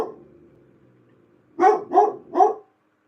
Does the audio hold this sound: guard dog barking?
yes